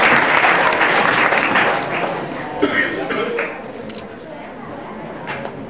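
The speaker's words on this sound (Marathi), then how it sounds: "सर्वांनी एकदा टाळ्या वाजवायच्या आहेत." Audience applause at a school annual prize distribution ceremony, a broad dense clapping from a crowd that is loudest at the start and gradually thins, with a speaker's voice over it.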